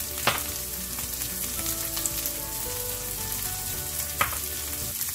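Cut green beans with chili and turmeric powder fry in a pan with a loud, continuous sizzle, close up, broken by a few stirring scrapes and clatters and a faint hum underneath, with no talking.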